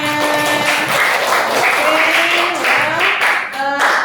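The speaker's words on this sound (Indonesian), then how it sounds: "Luar biasa, kita aplaus untuk kalian semua" A classroom audience applauding after group presentations, dense continuous clapping throughout while a voice speaks over it.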